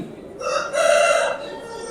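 A single Aseel rooster crows loudly and close at a rooster show in Tamil Nadu, one drawn-out cock-a-doodle-doo rising and falling over about a second against quiet surroundings.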